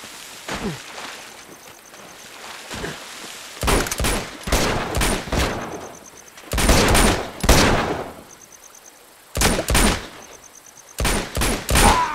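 Video game gunfire in Uncharted 2, with several loud bursts of rapid shots separated by short quiet gaps and light background noise between volleys.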